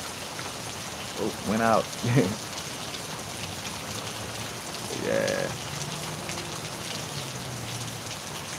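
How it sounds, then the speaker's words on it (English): Steady rain falls and patters on surfaces in an outdoor setting in Louisiana, a continuous wash throughout. Brief speech comes in early and again mid-clip, and a frog croaks faintly near the middle. "this rain is beautiful."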